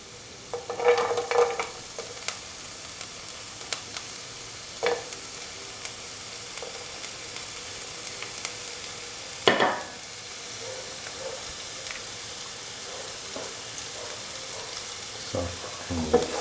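Shallots and garlic frying in a pan for a lentil dal fry, with a steady low sizzle under occasional scraping stirs and a few louder clanks of the spoon against the pan.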